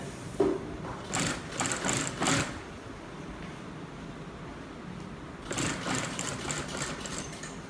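A sewing machine stitches a U-shape along the upper edge of a flapped back pocket on trousers, running in two steady bursts of rapid needle chatter separated by a quieter pause of low hum.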